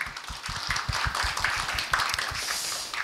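Hands clap steadily in a room as an audience welcomes a visiting professor at a seminary book concert, many overlapping claps forming a rhythmic, moderately loud patter with no speech.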